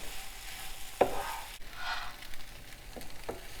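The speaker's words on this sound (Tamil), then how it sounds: "இப்போ இந்த உருளைக்கிழங்கை பட்டரில் போட்டு 4-5 நிமிஷம் வரைக்கும் நம்ம வறுத்து எடுத்துக்கலாம்." Grated potato fries in butter in a pan with a soft continuous sizzle, broken by a few scraping stirs and clinks, close up and with no voices.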